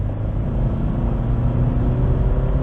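A BMW 330e climbing the Genting road, heard as a loud, steady engine and road rumble from inside the cabin with no talking.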